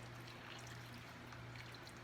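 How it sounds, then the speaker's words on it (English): Milk poured from a silicone measuring cup into a potato chowder, a soft continuous liquid pour and trickle, faint and steady with a low hum beneath, with no talking. "Now we're going to add the other 3 cups of milk to this dish."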